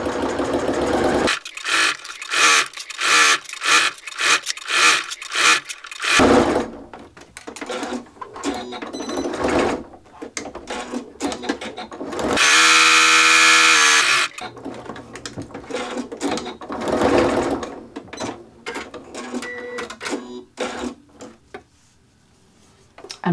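Sewing machine stitching a drawstring tote backpack with contrast thread at a longer stitch length, running in repeated bursts of rapid mechanical whirring with pauses and fabric handling between, close and fairly loud.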